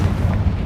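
A Confringo fire spell blast in Hogwarts Legacy, a dense, loud, sustained low rumbling boom lasting under a second with no voices.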